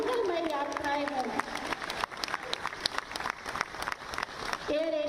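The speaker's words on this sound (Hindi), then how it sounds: "जोरदार तालियों से शुभ यात्राएं हों, मंगलमय यात्राएं हों।" A crowd applauds at the inaugural ceremony for AirAsia India flights from Lucknow. Steady clapping runs through the middle, with someone talking loudly over it at the beginning and end.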